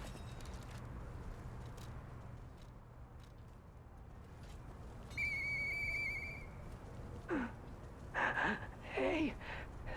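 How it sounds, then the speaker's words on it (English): Video game whistle, a clear sustained tonal whistle held for about a second and a half mid-way, followed by short breathy vocal sounds over a quiet ambient background. "I know that whistle."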